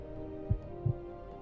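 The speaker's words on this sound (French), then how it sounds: "Et vos battements de cœur s'estompent peu à peu." Two low, muffled heartbeat thumps, about a third of a second apart, over a steady soft hum, used as a sound effect in an adventure scene.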